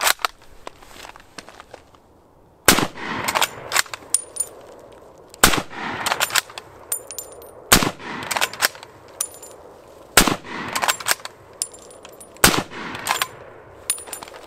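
An M1 Garand rifle fired outdoors at a civilian marksmanship range, about six loud sharp reports spaced a couple of seconds apart, each followed by metallic clinks and rattles of the action.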